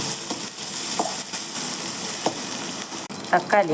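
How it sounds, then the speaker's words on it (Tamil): Onions and garlic sautéing with spices in a hot oiled pan for a Tamil potato gravy, a steady loud sizzle with occasional spoon stirs and scrapes, while a voice speaks briefly over it. "பிடிச்சி வச்ச பூண்டு, வெங்காயம் கொஞ்சம் நல்லா வதக்கிக்கலாம்."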